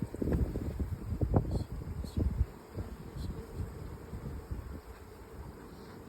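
Honey bees drone around an opened hive box, a close, uneven buzz that rises and falls as insects pass the microphone, with light wind rumble and handling thumps.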